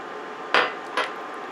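Sour cream scooped into a pan of beef stroganoff made from leftover prime rib: two short scraping taps of a utensil on the pan, close and clear, with no talking.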